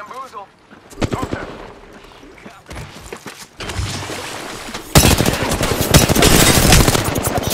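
Gunfire in the Apex Legends battle royale game, scattered single shots at first and then dense rapid automatic bursts building to a loud barrage, with voices talking over the shooting.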